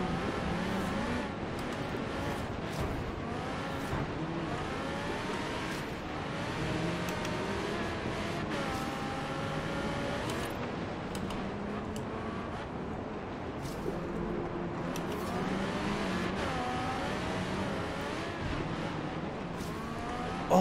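An Audi R8 Coupe V10 Plus 5.2 FSI Quattro races in Forza Horizon 3 during a snowy blizzard event. The engine revs continuously and loudly, with rising and falling pitch through repeated gear changes and no pauses.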